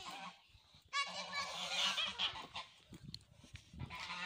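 Geese honk repeatedly in a farmyard, loud and close, a dense run of overlapping calls in a flock with scattered harsher honks toward the end.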